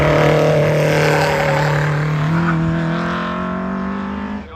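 Westfield SEW with a 1.6 litre Ford C-Tech engine at a hillclimb, a loud steady engine drone holding a high pitch, then shifting up a gear and fading slightly as it pulls away.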